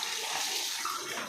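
Hot water runs steadily while a person washes their head, a continuous close splashing hiss with no pauses.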